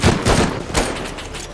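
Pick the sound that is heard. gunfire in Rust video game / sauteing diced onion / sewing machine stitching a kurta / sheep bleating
gunfire in Rust video game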